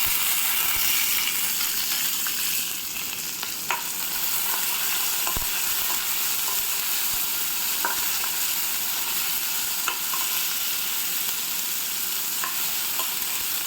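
Onion pieces frying in a pan for an amaranth-leaf curry, a continuous close sizzle with occasional sharp clicks from a stirring spoon against the pan, steady throughout.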